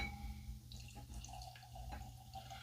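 Dewar's White Label blended Scotch whisky poured from a small 200 ml bottle into a glass, soft liquid trickles and drips close up over a low background hum.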